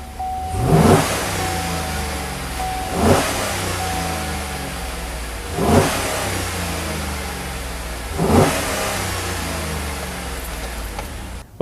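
A 2008 GMC Yukon with a newly fitted Airaid cold air intake idles steadily, then revs up four times at even intervals, each a short swelling roar close by that settles back to idle.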